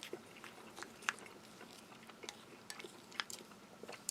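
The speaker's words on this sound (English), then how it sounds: "They still need quite a lot of chewing." Firm chocolate muesli grains from a French army 24-hour commando combat ration are chewed close up, giving soft, irregular crunches and mouth noises with a few sharper clicks against low room hiss.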